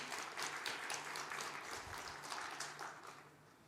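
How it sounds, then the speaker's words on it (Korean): A church congregation gives a round of applause, a soft, fairly distant patter of many hands that swells and then tapers off near the end. "하나님께 영광의 박수 올려드립니다."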